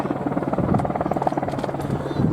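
A helicopter flies at an air festival, its steady rotor buzz loud and close and continuous throughout, with a faint rhythmic chop under the drone.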